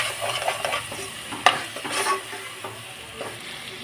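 Soaked chana dal and softened tomato stirred in a pan on the stove, with a steady sizzle and scraping spoon strokes, close and alone.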